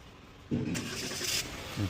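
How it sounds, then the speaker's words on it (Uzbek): A car engine starts by remote key fob, cranking and catching with a sudden loud burst, then settling into a steady idle with a short rise near the end. "Pultdan zavoddan qilyapti mashinamiz"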